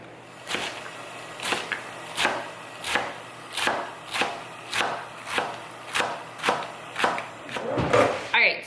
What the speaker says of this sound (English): I'm gonna start by chopping up my lettuce